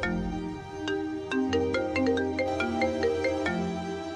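A mobile phone plays a melodic ringtone, a steady series of electronic notes ringing close and clear without talk.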